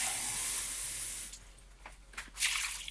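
Tap water runs hard into a pot for about a second and a half, a steady bright hiss, then cuts off into a few softer splashes and gurgles as lentil soup ingredients are gathered.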